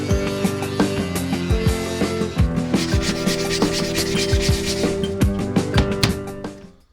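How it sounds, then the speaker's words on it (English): Rhythmic rasping strokes of sandpaper rubbed by hand over thin scrap wood, quick and steady, close by, tapering off at the end. "that has taken hours of sanding"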